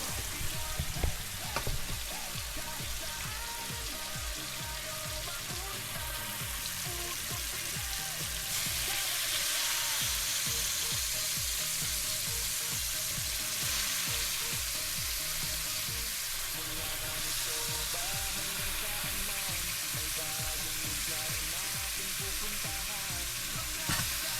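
Bitter gourd (ampalaya) sautéing in a pan for ginisang ampalaya with egg: a steady close crackling sizzle with rhythmic stirring scrapes, louder and fuller after the first few seconds.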